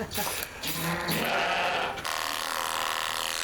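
Sheep bleat repeatedly at close range during shearing, over a busy, noisy background of clattering and mechanical hum, with people talking in the mix.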